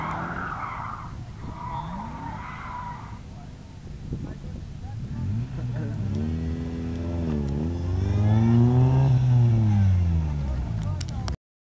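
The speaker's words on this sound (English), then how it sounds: "Smoking tires." Car revving hard with tire squeal and skidding at a gymkhana event, smoking tires, front-wheel drive; engine note rises and sweeps in pitch, growing louder toward the end, with people talking and laughing nearby.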